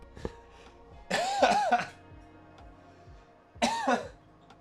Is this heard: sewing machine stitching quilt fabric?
no